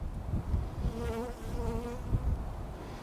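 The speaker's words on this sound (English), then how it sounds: "The bees are out here checking me out. They're flying despite how windy it is out here." Bees buzz close by outdoors, their droning hum wavering up and down in pitch as they circle, over a low rumble of strong wind.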